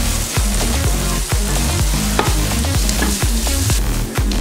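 Onions salted in a pan of hot oil fry with a steady, loud sizzle, broken by a regular rhythm of spoon scrapes and stirring knocks, with no talk over it.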